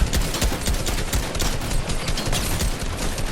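Rapid, continuous gunfire in a video game as a player guns down an NPC: dense, overlapping shots in a sustained close barrage with no pauses.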